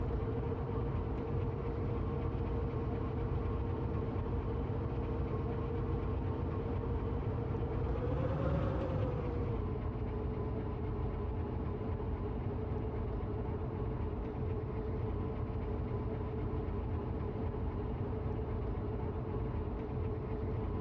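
A train in a train-operating video game backs up slowly, a steady low rumbling engine drone throughout with a brief swelling surge midway, constant and fairly close with no talk.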